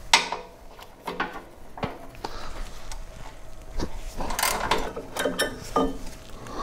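A wrench works a 12 mm bolt on the worm case stay of a YT624EJ auger, giving faint, scattered metallic clicks and ratcheting taps up close.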